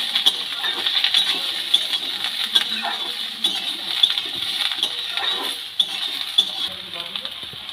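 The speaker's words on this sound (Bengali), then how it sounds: "আলু বেগুন কাঁচা লঙ্কা ভালো করে আমি তেলের মধ্যে নেড়ে চেড়ে নেব।" Potato, eggplant and green chili are stirred in hot oil in a pan, giving soft scraping and clinking spoon sounds over a faint steady sizzle, close and moderately loud, with a little talk in the background.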